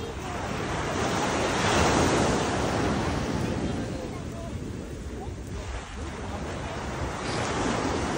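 Ocean waves wash onto the sand at Jumeirah Beach in Dubai, a steady roaring surf with wind buffeting the microphone throughout.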